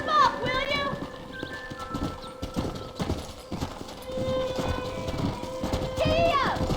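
Horse hooves clip-clop at a brisk gallop across open ground in the video game Red Dead Redemption, with a horse whinnying at the start and end and a character's voice calling out over the steady hoofbeats.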